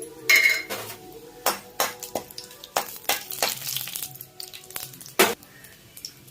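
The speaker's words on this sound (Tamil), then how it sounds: "எண்ணெய் காஞ்சிச்சு, நம்ம வந்து காஞ்ச மிளகா போட்டுக்கலாம்." Dried red chillies dropped into hot oil in a pan, with clatters of utensil against pan and a light sizzle beneath, nearby with sharp knocks and scrapes between quieter stretches.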